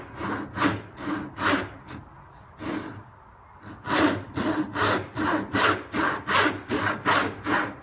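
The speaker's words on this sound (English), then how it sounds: "I've just cut my tenon off" A hand saw cuts a wooden tenon in a beginner's bare-faced mortise and tenon joint. The strokes are rhythmic and close, with a short pause partway through before steady sawing resumes.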